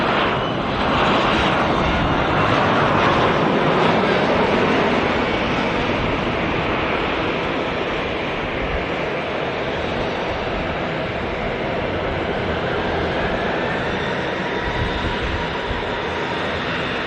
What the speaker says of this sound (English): What a great touchdown by the Sun Express.